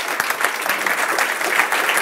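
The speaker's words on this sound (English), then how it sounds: "So maybe a round of applause because we haven't done so yet." A live audience at an R programming meetup in Amsterdam breaks into steady, dense applause, a close continuous wash of clapping with no speech over it.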